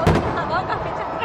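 Fireworks burst over the Minar-e-Pakistan grounds in Lahore on the night of the Independence Day celebration, a sharp bang at the start followed by a rumbling, crackling wash with crowd noise.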